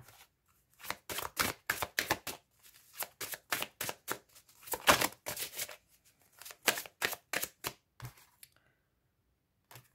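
Tarot cards are shuffled for a love reading: close, crisp riffling in quick repeated bursts separated by short pauses, with no voices.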